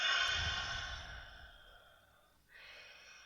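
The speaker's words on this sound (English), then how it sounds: "breathing in through your belly, then exhaling through the mouth" A single deep breath let out through the mouth in a guided breathing exercise, a long soft airy exhale that fades over a couple of seconds, followed by a quieter breath sound, close and alone.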